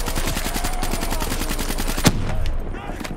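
Rapid automatic gunfire from the KN-44 rifle in a modded zombies shooter game, a dense run of loud repeated shots with one sharp louder crack near the end, followed by scattered in-game noises.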